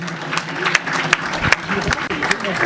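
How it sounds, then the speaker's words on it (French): A school audience at the Lycée Malick Sy claps for a science contest winner, a moderate burst of applause with a few sharper individual claps and some voices mixed in. "je vous demande de l'applaudir"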